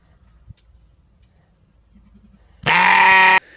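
A voice imitates a lamb's bleat with one loud, sustained, harmonic "bah" lasting under a second, alone after a near-silent lead-in.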